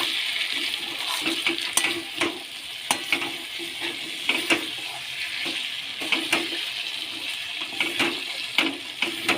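Water goes into a pan of mutton curry after the meat has been fried down, giving a continuous hissing sizzle with splashy bubbling and scattered sharp clicks of stirring, close and fairly loud.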